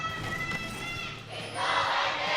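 Fans in an esports arena at a 2018 League of Champions Korea summer match cheer and shout in a faint, distant crowd roar that swells near the end, with some overlapping voices.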